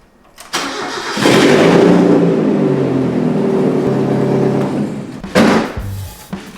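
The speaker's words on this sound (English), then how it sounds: "we can finally hear what the Flying Miata exhaust sounds like." A Mazda Miata fitted with a Flying Miata exhaust, with a slight exhaust leak at an open O2 sensor port, cranks and fires up, then settles into a loud, throaty idle close by before a blip and cutoff.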